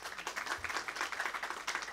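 Quiet, distant applause from the audience at a press freedom conference opening session, a soft continuous patter of many hands lasting a couple of seconds.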